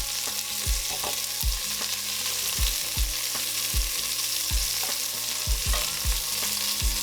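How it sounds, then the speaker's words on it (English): Beef chunks for stew sear in hot oil in a pan, giving a steady sizzle and crackle broken by repeated soft knocks and scrapes as the pieces are turned. The sound is moderately quiet and close, with no talking. "So we'll go ahead and let these sear on this side for about another 2 to 3 minutes."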